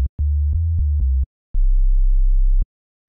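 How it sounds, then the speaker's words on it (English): A pure, low sine tone from a synthesizer sounds in two steady bursts separated by a short gap, with soft clicks where it starts and stops. "now we have a sine wave, and you'll hear this if I go into the sub range"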